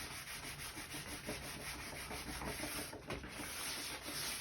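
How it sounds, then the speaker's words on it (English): Fine 320-grit wet and dry sandpaper rubs steadily back and forth over a surface, a soft continuous rhythmic scratching, close and quiet with no talk. "this is a 320 wet and dry sandpaper, really fine one"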